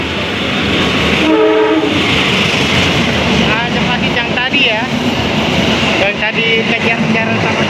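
A Jakarta Commuter Line train rumbles past close by with steady rail noise and a few horn-like tones, loud and continuous throughout.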